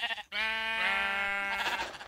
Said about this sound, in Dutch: Een schaap.